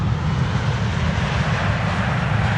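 A passenger airliner landing at Amsterdam Schiphol Airport, its engines producing a loud, steady, close roar with heavy low rumble and broad hiss, unbroken throughout.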